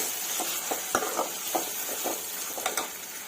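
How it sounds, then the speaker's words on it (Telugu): Dried fish sizzles in a pan with turmeric while a spoon stirs it through, producing a moderate frying hiss punctuated by a series of soft scraping strokes at a steady rhythm, close by and with no speech. "పసుపు వేసుకొని ఒకసారి ఇలా కలిపేసుకున్నాము"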